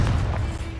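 A Confringo spell blast erupts in the Hogwarts Legacy game with a brief, heavy low boom and a rough crackling rumble that stays loud for under a second.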